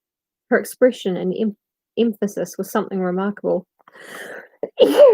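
One short sneeze bursts out near the end of a woman's steady read-aloud narration, close and sudden between her spoken phrases.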